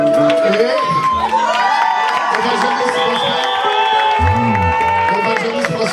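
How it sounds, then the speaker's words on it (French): A church congregation cheers and acclaims loudly and continuously, with shouting voices, whoops and some clapping blending into a dense, sustained crowd roar close around. "acclamez le Seigneur pour l'encourager"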